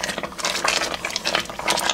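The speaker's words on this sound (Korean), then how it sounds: "타지 않게 저어줘야 됩니다." Balloon flower root extract being stirred in a thin pot as it thickens, giving quick scraping and bubbling splashes in irregular bursts close up, with no voice over it.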